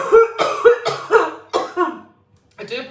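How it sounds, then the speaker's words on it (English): A person coughs hard several times in quick succession, a burst of harsh coughs with short pauses between them, close and loud, ending in a final cough after a brief silence. "I do apologise about this coughing."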